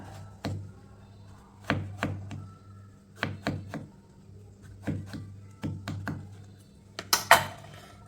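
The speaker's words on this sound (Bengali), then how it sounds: "এই যে মাঝখানটা ঠিক এইভাবে কেটে আলাদা করে নিব" A knife chops through an eggplant on a board in a series of crisp, close thunks, spaced irregularly with a quick double cut near the end, and no voices over them.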